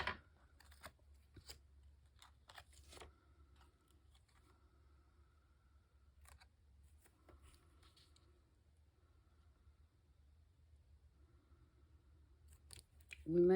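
Scissors cut paper in faint, sparse snips and soft clicks against a quiet room hum. A brief louder sound comes at the very end.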